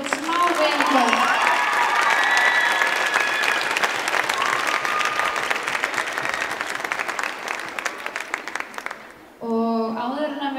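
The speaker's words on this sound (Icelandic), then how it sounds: "ætlum að byrja á því að klappa fyrir þessum frábæru iðkendum." A crowd at a women's team gymnastics competition gives the gymnasts sustained, dense applause with some cheering, then it breaks off into a voice over a loudspeaker.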